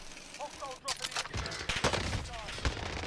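FFAR rifle gunfire in a video game comes as rapid, loud bursts of shots with sharp repeated cracks, mixed with other game sounds and a voice talking over them.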